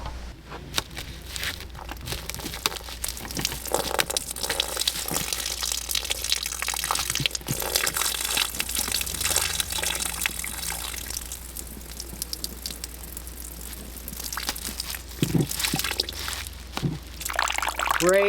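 Water gushes and splashes out of a cut-open cabin wall in a steady, close, broadband rush, mixed with crinkling and dripping sounds as the flow surges and eases.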